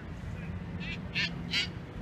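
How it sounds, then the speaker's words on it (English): Ducks quacking outdoors on a sunny day, two or three short nasal calls close together over a steady bed of ambient noise. "I can see the ducks, Scott, around here."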